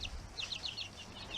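High, thin peeps from an Easter Egger chick, a quick run of repeated chirps, then another pair after a short pause, faint but clear over soft room noise, with nobody talking.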